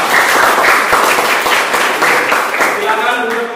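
Crowd of students clapping in a classroom during a project-based learning lesson, steady dense applause throughout, close and loud, with a few voices mixing in toward the end.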